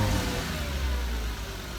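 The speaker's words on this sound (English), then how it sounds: "You can hear the engine sucking in the air." Porsche Cayman engine intake heard from inside while driving with the engine cover removed, a loud, close, deep droning roar that holds steady and dips slightly near the end, with no speech.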